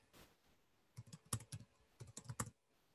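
Quiet keystrokes on a computer keyboard, a short burst of uneven taps clustered in two quick runs, close but faint, with no voices.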